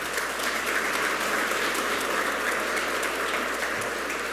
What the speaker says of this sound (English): And thank you for that applause.